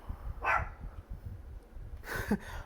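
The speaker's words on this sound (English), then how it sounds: "I don't know what the fuck she's barking at." A dog barks twice, a single bark and then a short double bark, fairly faint and somewhat distant over a low rumble.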